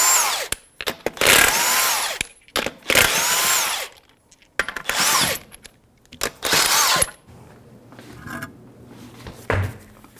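A power tool with a 21mm socket spins lug nuts off a 1997-2006 Jeep Wrangler wheel in several loud, close whirring bursts with brief gaps, followed by quieter clanks and handling noises.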